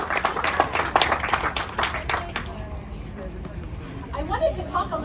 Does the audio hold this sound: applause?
yes